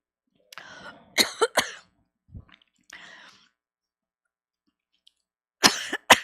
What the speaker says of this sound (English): everybody clear your throat for me